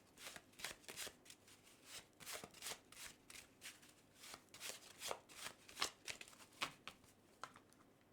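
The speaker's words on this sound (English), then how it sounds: "let's now go ahead and take a couple of cards from the Feelings and Messages deck" A deck of tarot cards is shuffled by hand in quiet surroundings, giving a run of soft, rapid riffling and flicking bursts close to the mic over about eight seconds, with no talking.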